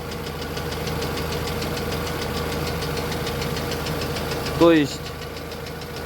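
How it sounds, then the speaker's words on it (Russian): A VAZ 2112 car engine idles with a steady, even rhythm, a continuous mid-pitched drone running throughout, with a brief louder squeal or rev near the end; someone speaks briefly over it. "вы сами, наверное, слышите, как двигатель четко, ровно работает"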